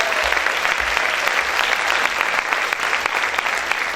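Sustained applause from a church congregation, many hands clapping together in an even, loud wash that carries through without a break.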